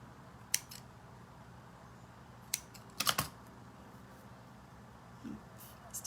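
Scissors snipping through a paper napkin for a craft project, a few sharp isolated cuts and clicks, close and quiet in an otherwise still room.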